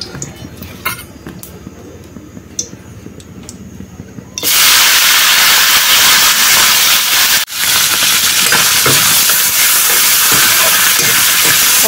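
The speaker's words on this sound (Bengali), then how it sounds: "তো কড়াইয়ে তেল দিয়ে দিছি, তেল গরম হয়ে গেছে, এখন এগুলো একটু ভাইজা নিই।" Dried fish drops into hot oil in a wok, followed by a loud, sustained hiss of frying that swells suddenly and holds close. Before that come a few faint clinks.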